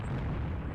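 Tank main gun firing during the Longstop Hill battle in the video game Tank Warfare: Tunisia 1943: a single heavy, booming blast that fills the whole moment with broad, rumbling noise.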